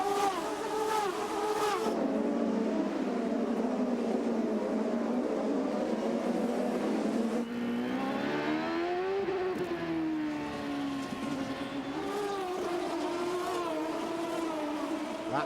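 Champ Car race cars screaming around the Toronto street circuit, a loud continuous high-revving engine whine that sweeps up and down in pitch as the cars accelerate and pass, with several engines overlapping throughout.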